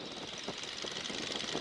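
A 1942 Boeing Stearman biplane's radial engine drones steadily in flight as power is gently brought on, a dense, continuous roar with rough, uneven pulsing and no talk over it.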